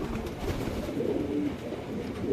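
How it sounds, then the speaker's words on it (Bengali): Pigeon of the Stephen Limbries line cooing steadily at close range, a low rolling coo repeated throughout with no talk. "এটা একটা স্টিফেন লিমব্রিস লাইনের কবুতর"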